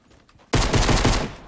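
A sudden loud burst of rapid automatic gunfire erupts after a brief quiet moment, sustained and dense, in a Fortnite Battle Royale firefight.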